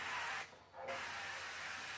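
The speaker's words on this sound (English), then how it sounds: "I like to use this olive oil spray." Olive oil cooking spray misted into a pan before it goes in the oven: a close, breathy hiss that cuts out briefly, then resumes and continues to the end.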